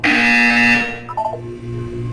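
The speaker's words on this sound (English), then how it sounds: "When you hear the buzzer, look down at the floor." A loud electronic buzzer from the video game Portal 2 sounds once for about a second and then falls away into a few short tonal blips.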